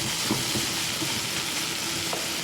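Carrots and other vegetables sautéing in a pan for Filipino sopas, a steady close sizzle and crackle with faint stirring, no voices.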